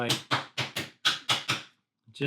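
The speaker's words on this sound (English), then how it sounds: "I think the highlight of this kit so far is the provided hammer." Small provided hammer tapping parts of a gothic book nook kit together: seven crisp, evenly spaced knocks in quick succession, close and clear, then a pause and a final softer tap.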